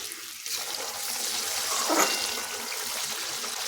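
Rinse water from a washed spice bowl is poured into masala being fried in a pan, making a steady hissing, splashing wash of liquid that peaks briefly midway and then settles, with no voices.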